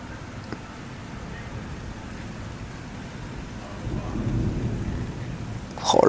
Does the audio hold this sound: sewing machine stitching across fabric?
no